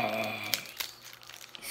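Plastic snack wrapper on a pack of Club Orange flavored wafers crinkles and crackles in a few sharp bursts as hands struggle to open it, close and fairly loud, with no talking over it.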